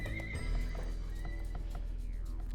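A horse neighs and whinnies in the real-time strategy game Age of Empires II, with clip-clop hooves and battle sounds mixed in, loud and close with a steady game soundtrack underneath.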